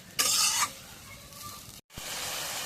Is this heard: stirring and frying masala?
yes